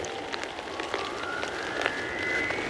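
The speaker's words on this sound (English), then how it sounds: "Great. Rain." Rain falling in the video game Sniper Ghost Warrior 3 makes a steady soft hiss, while a faint thin tone slowly rises and a few light taps stand out.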